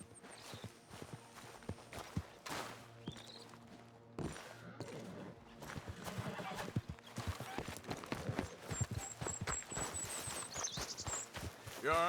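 Horse hooves clip-clop steadily in the Red Dead Redemption 2 video game, a rhythmic walking gait over a busy game soundscape with music and ambient effects, with a horse whinny and distant gunfire briefly audible.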